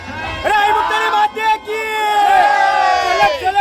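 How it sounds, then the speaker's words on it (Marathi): A crowd cheers and shouts at a Govinda dahi handi event in Mumbai, in heavy rain, with a loud nearby voice raised in celebration and general babble continuing behind it. "हाच जल्लोष सकाळपासून आम्ही सगळे वाट बघत होतो"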